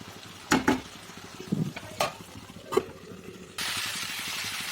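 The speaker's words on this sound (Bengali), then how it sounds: "তো এখন মশলার সঙ্গে সবজিটা ভালো করে ভাজি করে নেব।" Vegetables with brinjal frying in turmeric, chili and coriander powder, a faint steady sizzle broken by a few sharp spatula clinks against the pan, swelling louder near the end.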